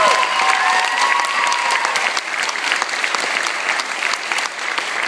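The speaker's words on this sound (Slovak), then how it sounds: "Jeden silný potlesk pre všetkých, poprosím." Loud, sustained applause from the audience at a dance competition awards ceremony, dense continuous clapping that stays strong and dips only slightly midway.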